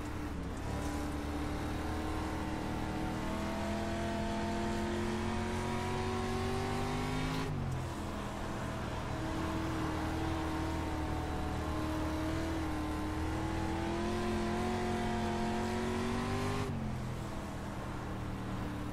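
A dirt street stock race car in iRacing at Volusia roars loudly as it accelerates, its engine pitch climbing through the gears with two sharp shift breaks, steady and close, with no talk.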